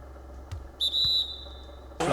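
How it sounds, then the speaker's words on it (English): A referee's whistle in the NBA 2K24 basketball game, Bulls at Knicks, gives one sharp, sustained shrill blast lasting about a second over a low arena murmur, framed by a couple of soft thuds. "And there's the whistle."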